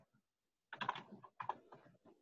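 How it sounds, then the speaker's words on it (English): Brief bursts of typing on a computer keyboard, heard during an online group session: a quick cluster of clicky keystrokes followed by a second short flurry, fairly faint and close, with no voices. "Here's somebody else typing."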